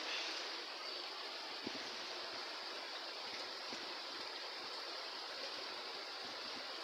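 A river flows steadily nearby, giving a continuous broadband rush of moving water with a few faint knocks, heard alone without voices.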